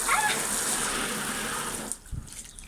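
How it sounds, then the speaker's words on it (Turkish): Water pours loudly and steadily from a hose or tap into a paddling pool, then cuts off near the end, leaving faint splashes and handling sounds. "çok güzel su akıyor"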